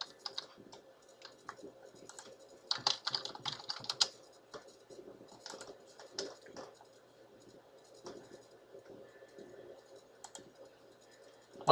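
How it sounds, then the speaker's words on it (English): Quick typing on a computer keyboard: steady patter of light key clicks with a denser flurry in the middle, faint and close, with no voices. "let me go ahead and quickly type it"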